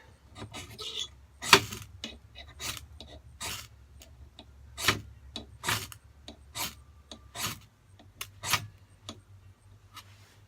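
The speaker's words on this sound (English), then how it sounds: "It actually caught fire a couple strikes back, so that lights really easy with a ferro rod." A ferrocerium rod struck repeatedly against Maya dust fire starter, giving a series of sharp, close scraping rasps at an irregular rhythm, each strike a brief bright burst with quiet between.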